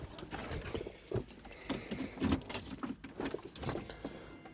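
Range Rover Vogue car keys jingle and clink in short, irregular bursts close by, rattling on and off over a quiet background.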